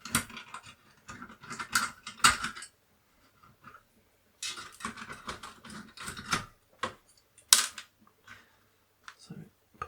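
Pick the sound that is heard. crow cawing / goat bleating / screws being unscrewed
screws being unscrewed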